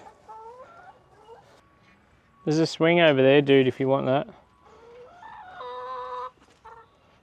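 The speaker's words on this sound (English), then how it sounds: "So we have chickens." Chickens cluck and squawk loudly in a burst of strained, rising calls, with a person speaking nearby before and after.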